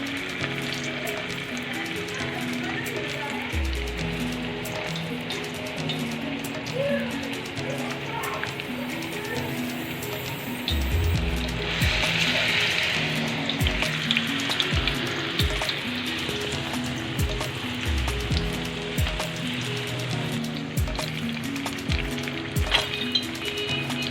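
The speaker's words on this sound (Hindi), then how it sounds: "इसको फ्राई में छोड़ देंगे।" Aloo chicken tikki frying in ghee over a low flame, a steady close sizzle and crackle throughout with occasional clinks and pan sounds; a voice is faintly present underneath.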